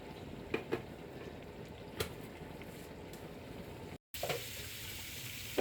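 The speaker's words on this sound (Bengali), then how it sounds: "এখানে চিংড়ি মাছ ভুনা করবে, তাই জন্য চিংড়ি মাছটা হালকা ভেজে নিচ্ছি" Shrimp lightly frying in a pan for a bhuna dish, a steady low sizzle and crackle close by, with a few soft clinks and a brief cut near the end.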